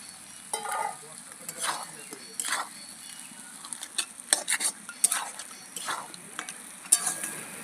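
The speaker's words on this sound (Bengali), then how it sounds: "এবার ভেজে রাখা মাথাগুলো দিয়ে আবার একটু কষিয়ে নেব" Fried fish heads stir-fried in spice paste, a spatula scraping and pushing through thick paste in repeated bursts over a soft sizzle, close and moderately loud.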